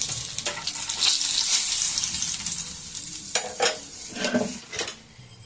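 Bay leaf, cardamom, cinnamon and dried chilli hit hot oil in a pan with a bright, hissing sizzle that stays loud and steady, followed by a few stirring scrapes as it settles and fades, close up with no voices.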